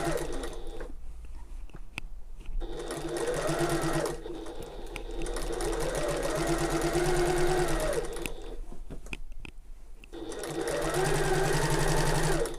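A sewing machine stitches around the top of an open tote bag, humming in long steady runs with brief pauses between stretches, close and clear.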